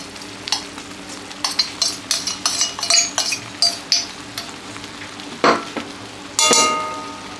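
Fried onion is stirred into spices frying in a pan, with repeated sharp metallic scrapes and clinks of a spoon against the pan over a low, continuous sizzle, ending in a louder burst of frying.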